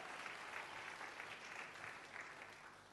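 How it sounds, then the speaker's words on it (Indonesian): A church congregation applauds during a sermon, a faint, distant wash of steady clapping that lasts the whole few seconds without a break. "tepuk tangan bagi Allah kita"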